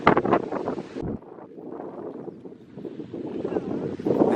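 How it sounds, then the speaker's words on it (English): Strong wind roars and buffets the microphone at a riverside campsite by the Orange River at night, a steady rushing blast that rises in gusts, with a voice briefly heard under it. "We've already set up our tent, but the wind is insane."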